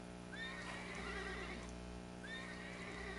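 A horse in The Thaumaturge video game neighs twice, with loud, clear whinnies over a steady low game background hum and no talk.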